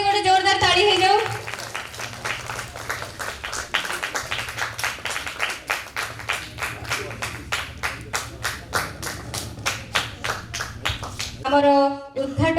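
Audience at an annual day celebration claps in a rhythmic, unified beat, loud at first and then settling into sharp regular claps, with a brief burst of cheering or music near the end.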